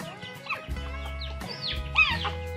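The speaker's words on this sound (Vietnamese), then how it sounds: "đàn gà đang lượn vượn ngoài này" A flock of chickens clucks and calls while being fed rice outdoors, with overlapping clucks and short squawks close by and a low, steady rumble underneath.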